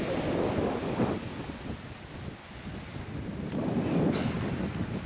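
Strong, cold wind at the top of Kangaroo Island buffets the microphone in heavy, rumbling gusts that swell and ease throughout.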